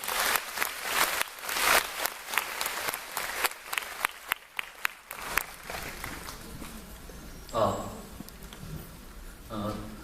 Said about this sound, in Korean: 박종훈 교육감님을 힘찬 박수로 맞이합니다.